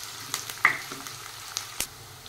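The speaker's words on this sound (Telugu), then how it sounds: "ఇలా ఆనియన్ మంచిగా మగ్గిందాక మగ్గించుకోవాలండి" Sliced onions with a few curry leaves sauté in a pan while being stirred, a low continuous sizzle with scattered sharp scrapes and clicks of the spoon, close and unaccompanied by speech.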